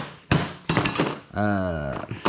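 Hammer blows on a spanner to free a stuck SRAM cassette on an XD freehub of a mountain bike: a few sharp metallic whacks close by, with a ringing tone and a voice in between.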